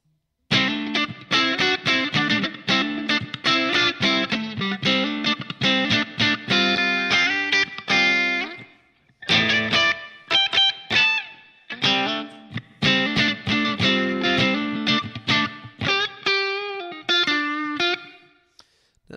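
An electric guitar played through a Line 6 POD HD500 on its Marshall JTM-45 bright amp model, with the volume set to 50% and some power-amp distortion, strums loud, crunchy chords with rhythmic stops and ringing sustains, and no talking.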